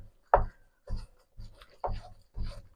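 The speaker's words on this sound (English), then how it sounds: "give it a stir" Curry sauce being stirred with a stirring stick in a pot, five distinct scraping strokes at an even, unhurried rhythm, close and fairly quiet with short pauses between each stroke.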